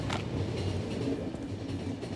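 Train rolling along in The Final Station video game, a steady low rumble with a faint clatter running evenly throughout, fairly loud and close with no voices.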